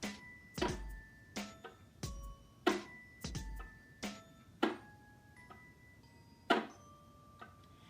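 A series of quiet, dry percussive chop-bowing thunks on a string instrument, irregularly spaced, each a short scratchy attack with faint pitched ringing afterward.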